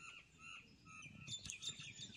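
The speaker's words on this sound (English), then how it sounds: "Love hearing the birds and wildlife in the morning." Birds chirp and sing in a quiet morning setting, a few brighter calls standing out near the end over a soft, steady background.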